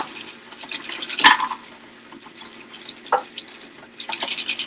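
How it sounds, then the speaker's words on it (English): Swizzle stick churning a summer cocktail in a glass, giving scraping, clinking stirs with ice and a sharp clink near the start, then quieter rustling and a final burst of vigorous swizzling. "We're going to swizzle away."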